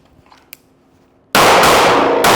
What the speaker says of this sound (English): We are just simply shooting the gun and seeing how she feels.